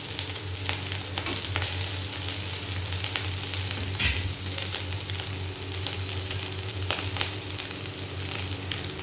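A bhetki fish head fries with onions, hissing and popping steadily up close with scattered sharper crackles and no voices.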